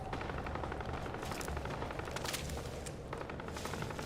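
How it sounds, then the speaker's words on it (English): Gunfire in a video game: rapid bursts of automatic shots crackling steadily throughout, fairly distant and faint, with no talking over them. "Ah, gunfire."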